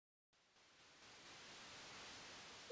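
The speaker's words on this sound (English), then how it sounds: "the white noise, it sounds like waves" Soft static-like white noise from the video game Deltarune swells gradually from silence and holds steady as a faint, even hiss resembling distant waves.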